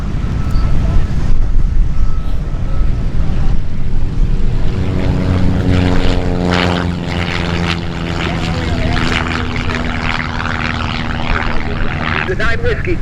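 A light propeller aircraft takes off at the busy EAA AirVenture fly-in at Oshkosh, with its engine roaring up loud and close, a rising tone in the middle and then a steady drone. Radio talk is heard faintly underneath.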